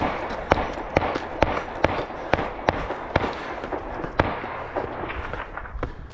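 Hunters' gunshots crack outdoors on a wooded trail, a sharp rapid series of about a dozen bangs at fairly even intervals, loud and close at first and then fading and spreading out.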